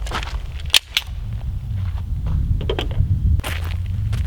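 Sharp gunshots fired at a target ring out several times outdoors at an irregular pace, loud and near, with quieter shuffling and handling noise in between.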